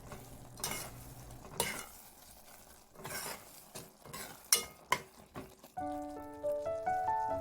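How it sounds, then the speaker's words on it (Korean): A spoon stirs a simmering Korean side dish of mud snails in a pot over low heat. Scraping strokes and metallic clinks against the pot come close and irregular over a soft bubbling sizzle, with no talk. "골고루 섞어줍니다."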